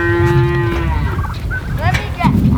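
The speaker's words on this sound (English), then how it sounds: "She can't be in with the cows." Cows mooing in a homestead barn, one long low bellow followed by a few shorter, higher calls, close and loud, with farmyard clatter and no talk.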